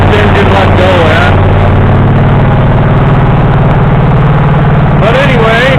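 Predator engine fitted to a Cub Cadet lawnmower runs steadily at idle, a loud low, even drone that holds throughout, with someone talking over the start and end.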